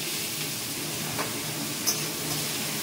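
Diced pumpkin and potato land in a frying pan with cumin seeds, giving a faint steady sizzle and hiss with a couple of soft stirring clicks.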